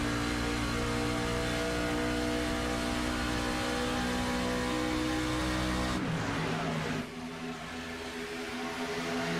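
Race truck engines rev hard on throttle in a truck series racing video game at Auto Club Speedway, a loud sustained droning whine that dips and shifts pitch briefly before climbing again.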